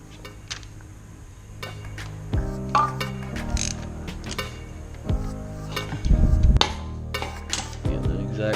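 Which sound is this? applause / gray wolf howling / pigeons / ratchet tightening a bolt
ratchet tightening a bolt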